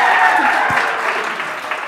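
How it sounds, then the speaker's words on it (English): A late-night talk show studio audience breaks into loud, dense applause that fills the room for a couple of seconds and slowly tapers. "Clapping, yes!"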